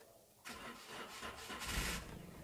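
A Toyota Agya car engine cranks and catches, then settles into a steady mid-pitched running hum with slight revving, heard up close with no talk.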